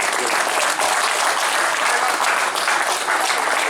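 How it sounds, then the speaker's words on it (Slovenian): Audience applause for a standard-bearer at the opening of a competition, a dense, steady burst of clapping from a large crowd that carries loudly and evenly for several seconds. "res en lep aplavz za njega"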